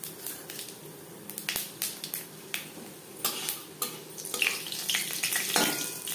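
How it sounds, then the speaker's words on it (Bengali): Panch phoron and broken dried red chillies frying in hot mustard oil, giving a steady crackling sizzle with sharp spatters and occasional light clinks of a spoon against the pan. "পনেরো 20 সেকেন্ড পাঁচফোড়ন ভেজে নেওয়ার পর দিয়ে দেব রসুন।"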